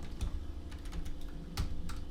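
Fingers tap quickly on a computer keyboard, a close, steady stream of light clicks with a few louder key strikes, no voices.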